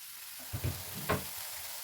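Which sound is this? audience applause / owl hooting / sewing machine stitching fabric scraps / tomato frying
tomato frying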